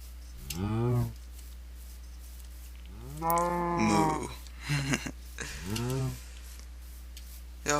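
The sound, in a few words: cattle mooing in the video game TerraFirmaCraft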